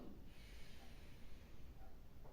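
A single deep, drawn-in breath taken during a guided relaxation breathing exercise, soft and close, heard alone with no talk over it.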